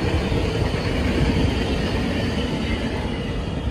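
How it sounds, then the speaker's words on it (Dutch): A Dutch passenger train of the older generation rolls past close by, a steady loud broadband rumble with rattling wheel noise that holds for the whole stretch without a break. "Daar zie je dus de trein."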